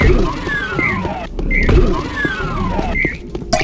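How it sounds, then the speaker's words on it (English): A short bright health pickup chirp from a Doom-style game with the Toby Accessibility Mod repeats about four times at a steady pace over dense game noise with low rumbling thuds. "that's the sound of a health pickup, in this case a health bonus."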